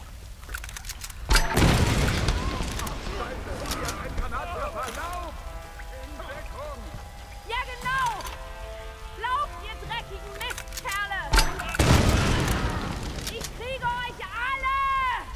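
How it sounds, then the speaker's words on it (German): Explosions from an AK rifle fitted with a grenade launcher in the Tomb Raider video game: two loud, heavy blasts, one near the start and one later, with game effects and faint voices in between. "Jetzt bastelte sich erstmal eine AK mit einem Granatwerfer."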